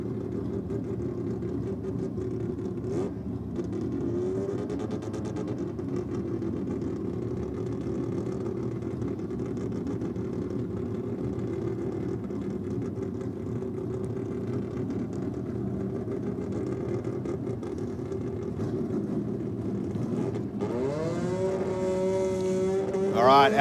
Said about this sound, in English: Lots of RPM from the Mazda. Can't hear anything but that little 13B scream